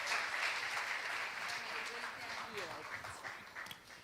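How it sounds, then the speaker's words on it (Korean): A conference audience gives a big round of applause to welcome a speaker, dense clapping that gradually thins out while voices start to come through toward the end. "근데 우리 라비 사모님 모실 때 큰 박수 주시겠어요?"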